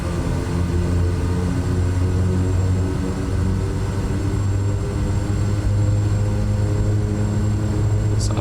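SWS Kodiak 100 single-engine turboprop in MSFS 2024, taxiing toward runway 29, its steady propeller drone and low engine hum holding loud and continuous throughout.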